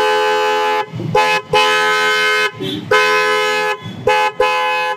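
Hyundai Creta horns fitted to a Grand i10 Nios, honked in several loud, close blasts of varying length separated by short gaps, with a harsh brassy tone.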